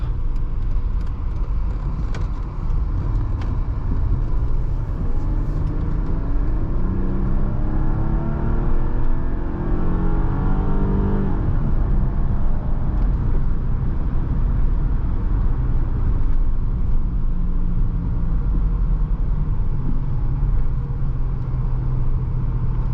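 A 2005 Mercedes-Benz E320 S211 wagon accelerating in drive, a steady engine whir and road rumble from inside the cabin, rising gradually in pitch over a long stretch with no talk.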